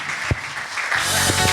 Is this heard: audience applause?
yes